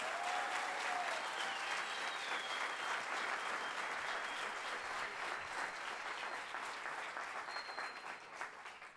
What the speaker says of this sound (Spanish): El aplauso para ustedes.